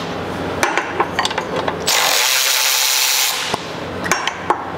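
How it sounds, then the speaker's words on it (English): Removing 17 mm caliper bolts on a Lexus GX470's rear brakes, with a loud, steady whirring power-tool burst of about a second and a half between nearby metallic clicks and rattles from wrench and bolt handling. "take off these two 17 millimeter headed bolts that hold the caliper on"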